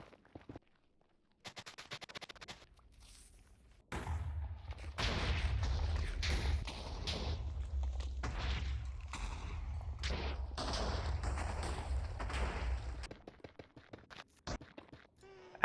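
Repeated TNT blasts in Minecraft while digging for netherite in the Nether, heard as a dense, rumbling run of overlapping explosions lasting several seconds and preceded by a few sharp isolated bursts.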